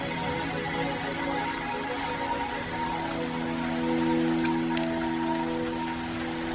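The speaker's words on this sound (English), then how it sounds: "Don't worry, the rain won't last much longer." Gentle, continuous rainfall in the video game Wuthering Waves, a faint even hiss of drops layered under soft sustained ambient music with no talking.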